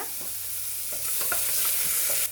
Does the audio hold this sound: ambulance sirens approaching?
no